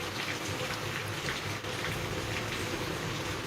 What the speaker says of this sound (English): She doesn't like the loud noises of the rain.